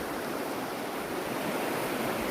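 A knee-deep stream running out of a pond spillway after a night of rain gives a steady, even rush of flowing water, close and unbroken with no voices.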